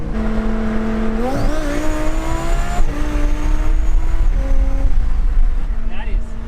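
A car with fully straight-piped exhaust revs loudly and close, its engine pitch climbing and falling in several surges with a raspy, droning tone, under occasional talking.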